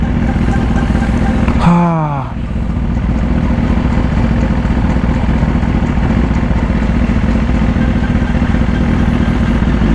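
A 2018 BMW S1000RR sport bike in Racing Red, fitted with an Austin Racing exhaust, runs with a steady engine drone throughout, a brief rev-like sweep near the start, ridden in traffic.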